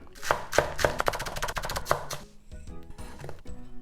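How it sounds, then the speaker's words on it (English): A knife chops scallion on a cutting board in a quick run of crisp, close taps, then slower, fainter cuts near the end, with no voices. "I'm gonna cut up the scallion"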